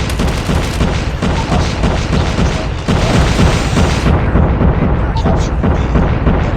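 In a first-person shooter game, continuous loud gunfire and booming blasts pound nonstop as dense rumbling bursts, with a game voice calling out over the clamor.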